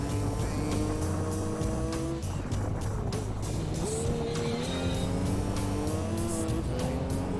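Volkswagen Golf rally car in the Gran Turismo 2 video game, engine droning and shifting pitch steadily up and down throughout with tire noise, loud and continuous, with game music or engine layers underneath and no talking.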